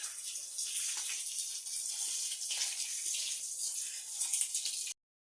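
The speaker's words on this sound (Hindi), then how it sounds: "अब जो है इसमें पानी डाला जा रहा है" Water pouring steadily into a cement and sand mix while rebuilding a village bathroom, a continuous gushing, splashing wash that holds for about five seconds and then stops abruptly.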